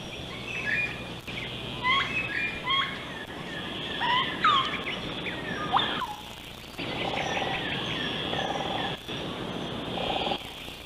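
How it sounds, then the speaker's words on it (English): Shrill, squeaky chatter of plum-faced lorikeets in short bursts over a steady background hiss, several birds calling on and off, high in New Guinea's mountains. "there are even parrots, like these plum-faced lorikeets"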